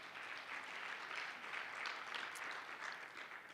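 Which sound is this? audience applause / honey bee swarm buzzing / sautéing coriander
audience applause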